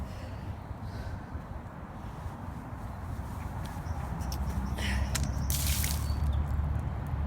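Beer-diluted liquid full of slugs is dumped from a garden slug trap, wet dripping and squishing that swells into a louder splashing pour near the end, close by.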